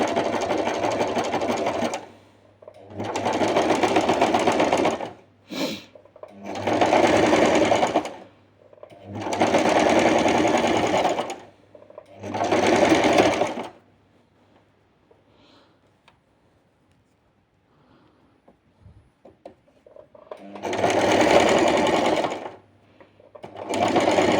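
Domestic sewing machine stitching fabric for classic underwear, close and loud in several bursts of steady whirring of a few seconds each, separated by silent pauses and a long quiet gap before one last run.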